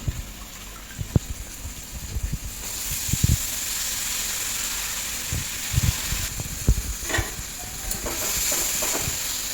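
Soaked lentils go into a hot pan in a home kitchen, setting off a rush of hissing sizzle with scattered clinks and spoon knocks, loud and close, with no talking.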